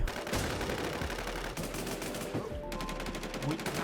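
Rapid gunfire from a Thai online shooter game, bursts crackling loudly and continuously through the whole stretch with a brief shift midway, no talking over it.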